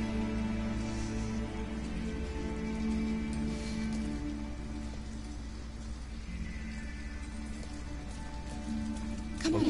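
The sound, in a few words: rain in the video game Detroit: Become Human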